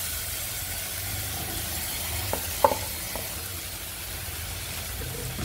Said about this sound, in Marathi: आता आपल्याला घालायचा आहे तांदूळ। त्याच्यामध्ये मिक्स करून घ्यायचं आहे